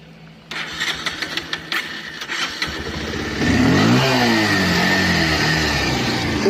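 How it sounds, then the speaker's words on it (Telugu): Bajaj Pulsar 150 motorcycle, a 2023 model, starts up with a cranking burst, then settles and revs loudly, the engine note rising and falling close by with no talk. "సో ఇంజన్ సౌండ్ కూడా చూసుకోవచ్చు మీరు."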